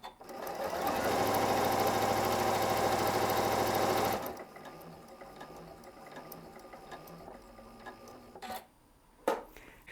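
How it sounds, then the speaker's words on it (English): A Janome M8 sewing machine stitches quilt piecing patches in a steady, fast mechanical whir for about four seconds, then stops, leaving quiet handling clicks and a couple of soft knocks. "Now for the next patch, you can just put that right up to the previous patch and start sewing."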